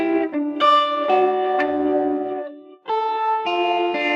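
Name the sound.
audio plugin distortion with ping-pong delay effect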